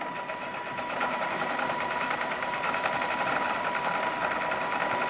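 A small electric motor in an RC model submarine whirs steadily at a high pitch under throttle, smooth and continuous throughout, with a faint buzzing vibration and no voices.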